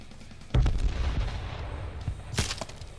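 In the battle-royale shooter H1Z1, a loud nearby gunshot booms and echoes, followed by further scattered shots at varying distance over a rumbling background.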